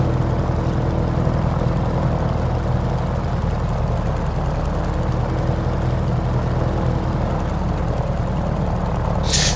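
Grumman F4F-4 Wildcat radial propeller engine in Microsoft Flight Simulator, a loud continuous droning hum holding steady throughout, with no speech.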